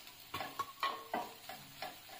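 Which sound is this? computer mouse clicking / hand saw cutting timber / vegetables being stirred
vegetables being stirred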